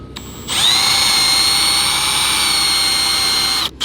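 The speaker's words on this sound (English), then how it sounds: "So you gotta manhandle that drill." A power drill spins up and runs in one loud, steady, close high-pitched whine for about three seconds before cutting off.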